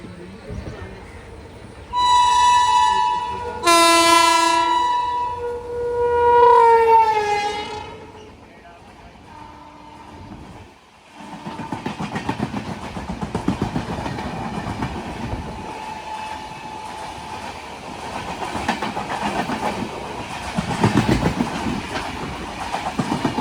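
A train sounds its horn in several long blasts, then the Mangala Lakshadweep Superfast Express rushes past a crossing on the Konkan Railway with rattling, clattering wheels that continue steadily to the end.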